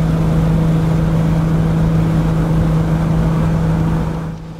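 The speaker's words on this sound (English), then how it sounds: "It was a hot drive and the Turbo 6 ran well" A Ford Barra Turbo 6 car cruises on a hot highway drive, its engine giving a loud, steady drone with a constant low hum that eases off slightly at the end.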